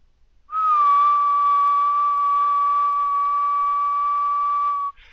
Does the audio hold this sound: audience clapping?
no